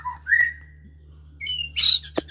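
A white-rumped shama (murai batu), a songbird kept as a captive fighting bird, gives a few sharp whistled calls and a brief chirpy burst over a steady low electrical hum.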